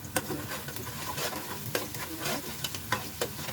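Chopped onion sautés in a pan with a little salt, giving a close, steady sizzle broken by scraping stirs that repeat every half second or so.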